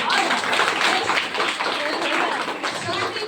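A crowd claps at a student event held by the Yashomargha Seva Foundation in Davanagere. Dense, steady applause fills the whole stretch, and voices carry over it.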